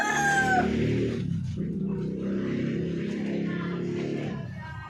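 Darag native chickens kept in cages on a Filipino farm crow loudly near the start, then cluck and murmur continuously, with someone talking over the birds.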